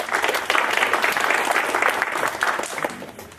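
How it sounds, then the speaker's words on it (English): An audience at a Lamar University orientation session breaks into steady applause, a dense, close patter of many hands lasting a few seconds before thinning out. "Let's give him a round of applause."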